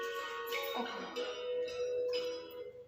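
A mobile phone rings from inside a dry glass beaker, a tonal electronic ringtone with a slightly hollow, resonant quality, steady and fairly faint, with no talk over it.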